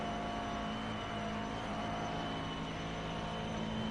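A McLaren MP4-12c GT3 race car engine in the iRacing simulator drones steadily and continuously at moderate volume, a dense mechanical roar with no breaks.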